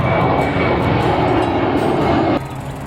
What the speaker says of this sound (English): And a jet, because the airport's just over there where the tower is.